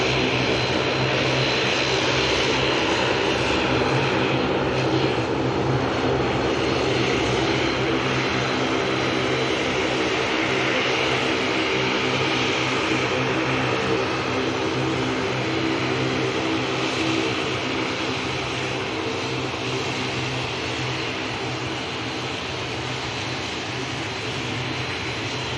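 An EasyJet airliner rolls for takeoff at Manchester Airport, a loud, sustained jet engine roar with steady tonal whine layered over deep rumble, running unbroken and alone.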